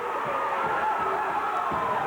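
A standing crowd at a 1992 high school wrestling match between Warrior Run and Lewisburg keeps up a steady, moderate roar of cheering and shouts, sustained and diffuse throughout.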